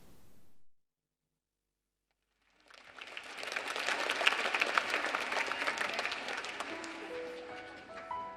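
Youth arts festival audience breaking into sustained applause after a brief silence, the clapping swelling into a dense, steady wash with a few faint tones near the end.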